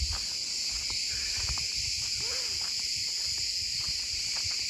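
Crickets chirp in a constant high, shrill drone across the ancient ruins of Priene, a steady outdoor chorus with faint low background rumble and no talking.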